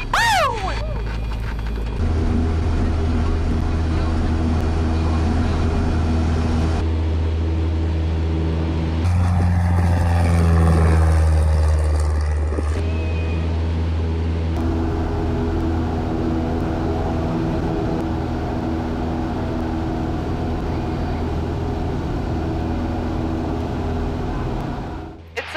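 Light aircraft lining up on runway 13, its piston engine droning steadily and loudly from inside the cabin, with a brief surge and rougher rumble partway through before settling back to a constant hum.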